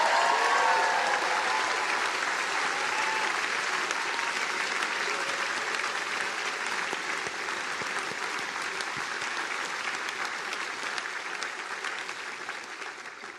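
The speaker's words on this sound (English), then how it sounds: "So how about we give a round of applause to your parents," A large crowd at a Harvard University graduation ceremony applauds parents and families, a dense, continuous roar of clapping that holds steady and slowly tapers over about thirteen seconds.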